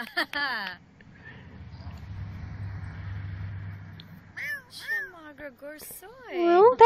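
A Siamese cat in The Sims 4 gives a few short meows near the start and again toward the end, with a low engine-like hum in between and people talking over parts of it.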